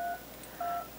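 Two telephone keypad dialing tones from a phone in the Monster Basement video game, short dual-pitch beeps separated by a brief pause, clear and fairly quiet against a faint low hum with no speech.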